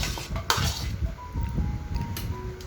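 Ginger, garlic and onion tipped into a pan for a crab dish, with a sharp clink of metal on metal and a few light scraping and rattling taps against the cookware, close by and fairly quiet.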